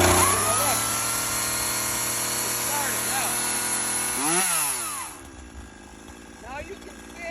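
Chainsaw pull-started and left idling, a loud steady buzzing engine that settles into a quieter idle.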